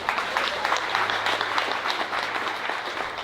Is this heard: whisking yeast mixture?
no